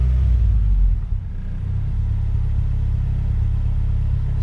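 A Ford Duratec engine fitted in a Ford Sierra idles with a deep, close, steady rumble, dipping briefly before settling into a slightly raised, even hum, with no talk over it.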